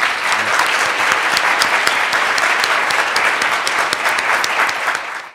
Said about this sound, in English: Thank another round of applause for the panelists.